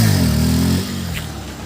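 A motorcycle engine revs hard during a wheelie stunt, a loud close roar that drops to a lower idle-like drone partway through, with no voices.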